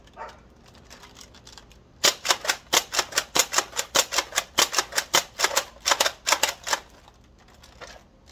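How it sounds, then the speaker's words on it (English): A toy blaster fires a string of sharp plastic clacks: after a quiet start come several spaced single shots, then a rapid slam-fire burst of quick snapping shots, close and loud with no talk. "First 7 are going to be, you know, typical single shots, and the rest is going to be, you know, just slam fire as fast as I can manage."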